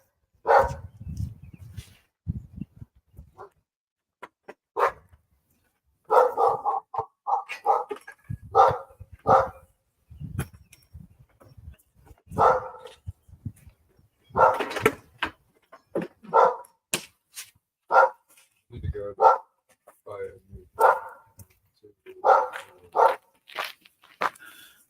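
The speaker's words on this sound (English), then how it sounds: "The neighbor's dog is a pain in the ass and barks all the time." A neighbor's dog barks repeatedly in short bursts, fairly close, with brief pauses between barks and a little talking at the start.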